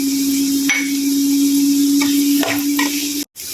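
Onions, coriander, curry leaves and garlic fry in a pan with a steady, close sizzle. A few light stirring scrapes and knocks break in, and a brief dropout comes near the end.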